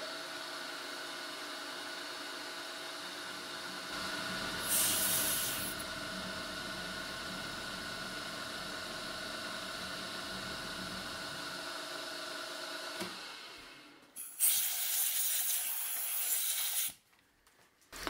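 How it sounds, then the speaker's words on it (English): An 8 mm four-flute carbide end mill plunges down to cut a relief for the center of a ball joint, giving a steady whining, hissing machine drone that breaks off near the end, followed by brief bursts of louder noise. "here I'm cutting a relief for the center of the ball joint with an 8 mm carbide end mill"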